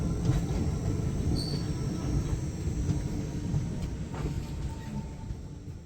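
Tutari Express train arriving at Chiplun: a steady, moderate rumble of the moving rail carriage, with faint clatter and no speech.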